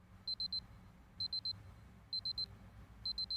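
An alarm clock rings in the Fate Grand Order video game, with four bursts of three sharp, loud electronic beeps spaced evenly over a low background hum.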